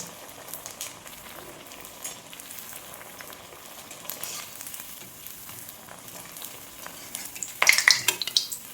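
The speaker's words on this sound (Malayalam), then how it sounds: "തിരിച്ച് മറിച്ച് വിട്ട് കരിഞ്ഞ പോകാതെ നമുക്കിത് വറുത്തെടുക്കാം" A snack deep-frying in a small pan of hot oil, giving a soft continuous sizzle with light stirring clinks, then a sharper burst of crackling near the end.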